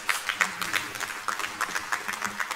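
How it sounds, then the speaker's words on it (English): A small crowd claps at a conference, light scattered applause heard from a moderate distance, fairly faint and uneven. "Give a big round of applause."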